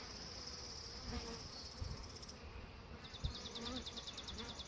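Bees swarm around an open beehive during a colony inspection, with young larvae and drone brood in the frames. A dense, steady buzz is close by and continuous, with rising whines from passing bees and some faint handling noise underneath.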